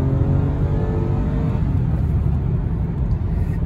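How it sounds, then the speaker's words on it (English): A 2010 Lexus ES 350 accelerating hard with wheel hop, a loud, steady V6 engine roar with a deep rumbling drone, heard from inside the cabin, with no talking. "Oh my God, literally wheel hop."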